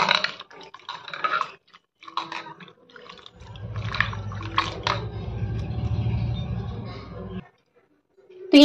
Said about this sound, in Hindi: यहाँ हमने देखिए इसको अच्छे से पानी में साफ करके अच्छे से इसको साफ कर लिया है